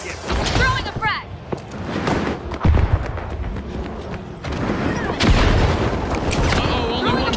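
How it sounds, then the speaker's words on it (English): A frag grenade tossed and bursting in the shooter game The Finals, with deep booms and gunfire thumping through a loud, busy fight while a voice talks over the action. "Throwing a frag."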